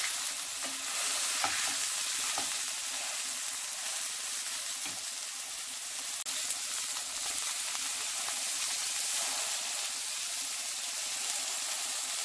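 Ground beef frying in its own juices in an ungreased skillet, a dense, steady, close hiss and crackle that runs unbroken, with a few faint scrapes of stirring underneath.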